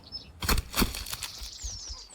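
Wings flap in a few sharp, close bursts as a bird takes off in The Forest survival game, followed by faint higher chirps.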